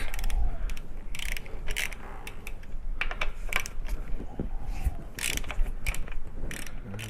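Ratchet spanner slackening the front fork bolts on a Yamaha Bolt XV950 motorcycle, a series of close, sharp mechanical clicks in short irregular bursts over a low background rumble.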